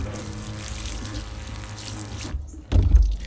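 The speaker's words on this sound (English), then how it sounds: "You'll see me rinsing with fresh water here" Fresh tap water runs over fish fillets (snook, flounder or redfish) in a sink, a steady splashing flow that stops briefly, then resumes with a louder, heavier gush near the end.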